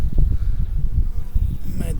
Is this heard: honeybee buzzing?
yes